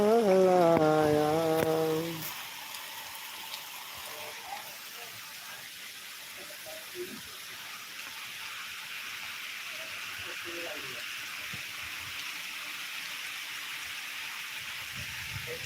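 Heavy rain pours down in a steady, even hiss after a short burst of music at the start, continuing unbroken with only small scattered knocks.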